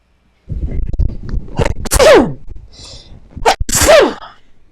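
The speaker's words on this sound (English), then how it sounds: "I had to sneeze" Two loud sneezes close to the microphone, each with a sharp breathy burst, about two seconds apart, and some quiet rustling around them.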